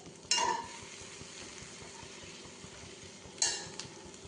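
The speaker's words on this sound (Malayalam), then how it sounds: "ഒന്ന് നന്നായി ഇളക്കി കൊടുക്കാം." A spatula scrapes and stirs masala through egg noodle chapati in a pan, with two sharp metallic clinks against the pan standing out over a soft continuous sizzle, close and fairly quiet.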